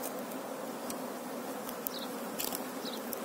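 A swarm of bees drones in a steady, dense buzz during an urgent bee removal, with a few individual insects zipping close past now and then.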